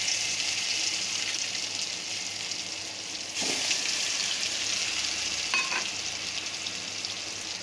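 Ground leaf paste with black cumin sizzles and fries steadily in hot oil, a continuous close crackle with brief stirring scrapes and no talk.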